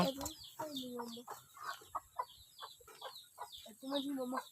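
Chickens cluck and squawk close by in short bursts, with other farm sounds faintly behind.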